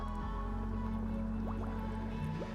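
Bubbles rising from a fursuit fully submerged in a swimming pool gurgle and drip against a steady low background hum, with a few quick rising blips in a short close burst.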